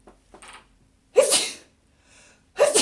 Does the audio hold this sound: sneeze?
yes